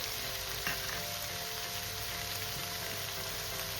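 Green chillies drop into a hot pan for a lau ilish, a bottle gourd and hilsa fish-head dish, setting off a steady, close, continuous sizzle and frying hiss with no talk over it.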